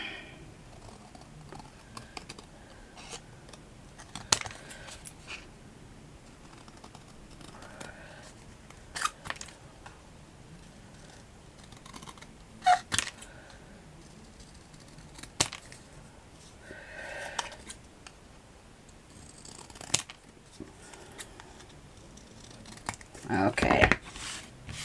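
Scissors cut through pieces of cardstock for a miniature vintage settee and coffee table, giving sparse, quiet snips spaced several seconds apart, with a sharper burst of cutting near the end.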